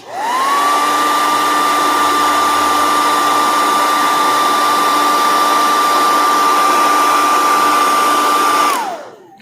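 A heat gun blasts hot air onto the adhesive under an LG Velvet phone's back glass, producing a loud, constant blowing whine with a steady tone that rises at the start, holds evenly for about nine seconds, then winds down as it switches off.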